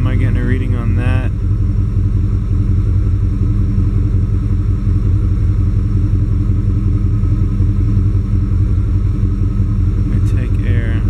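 A GM throttle-body-injected truck engine running rich idles roughly with a loud, steady low rumble throughout, with brief voices near the start and end.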